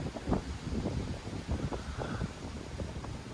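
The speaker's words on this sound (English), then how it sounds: "It's so windy though." Strong wind blows across the open ground of the old RAF Kings Cliffe airfield, a steady rough buffeting rumble against the microphone that carries on without a break.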